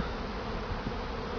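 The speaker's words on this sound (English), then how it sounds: "So the same hive that threw a swarm last time just threw another swarm." A honey bee swarm thrown from a hive makes a dense, continuous buzzing drone, loud and close, steady from start to finish with no voices.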